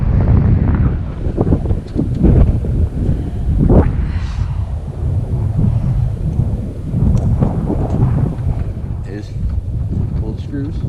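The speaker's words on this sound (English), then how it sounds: "It's a windy day." Gusty wind roars across a rooftop during air-conditioner maintenance, buffeting the microphone in a steady low rumble that swells and eases throughout, with faint voices now and then.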